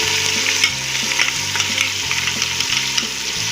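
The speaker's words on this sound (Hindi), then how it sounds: "अब मैं इसमें ये अदरक यानी कि प्याज का टमाटर का जो पेस्ट हमने तैयार किया था वो मैं डाल देती हूँ" Tomato, onion and garlic paste frying in hot oil for chicken korma, a loud bright sizzle with repeated stirring scrapes every half second or so.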